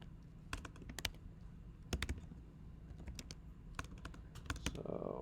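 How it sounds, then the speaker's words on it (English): Computer keyboard typing while setting up a route for JWT authentication in a Rails app, with bursts of close, quick key clicks in irregular clusters over a quiet background, and no talking. "Adam, what am I typing in here?"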